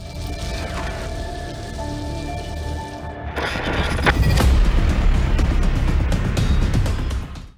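Torrential monsoon rain pours down over Lahore, a loud continuous roar of water hitting surfaces, intensifying after a few seconds.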